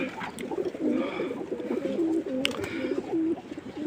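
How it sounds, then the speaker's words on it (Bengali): Male pigeons crowd a cage at home, about twenty-five birds, giving repeated soft throaty coos in overlapping bursts, close and fairly steady, with no talking. "এই নরের কেজে 25টা কবুতর আছে"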